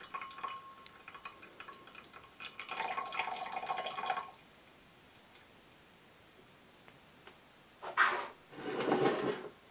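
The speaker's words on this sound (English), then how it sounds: "Once the lower aqueous layer is drained, what should remain in the separatory funnel is quite pure ethyl acetate." Liquid draining out of a glass separatory funnel in a lab, the aqueous layer of an ethyl acetate esterification running off in bursts of splashing trickle separated by quiet pauses.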